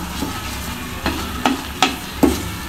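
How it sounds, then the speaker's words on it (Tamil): Spoon stirring a thick peanut mixture with ghee on a tawa, four or five distinct scraping strokes over a low sizzle, close and moderate, with no voices. "சேர்த்து நல்லா வந்து கலக்குங்க"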